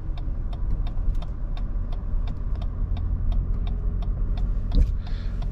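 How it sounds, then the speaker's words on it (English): A low, steady engine hum and road rumble inside a 2022 Lexus NX 450h+ plug-in hybrid as the engine kicks in, with light rhythmic ticking over the drone and no talking. "you can hear the engine kicking in now"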